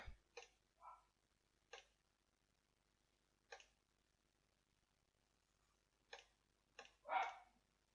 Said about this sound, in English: there's the dog being loud again